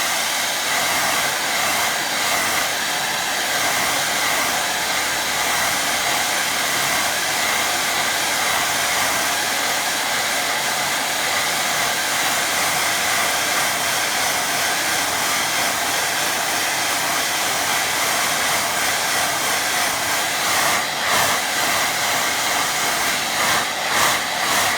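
A hair dryer blows loud and steady at close range over a watercolour painting, a continuous rushing whoosh with no other sound.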